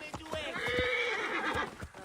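A horse in the Assassin's Creed Origins video game gives a long, close, shrill whinny, with sharp hoof clops sounding before and after it.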